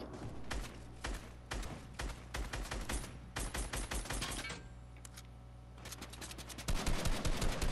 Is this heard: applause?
no